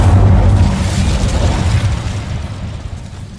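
A fiery blast from the Incendio spell cast in Hogwarts Legacy: a loud, deep booming whoosh that hits at once and rolls off over a few seconds, with no voices over it.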